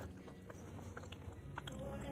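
Faint crisp crunches and chewing as a bite is taken from a glazed apple fritter, soft clicks scattered over a quiet room hum at close range.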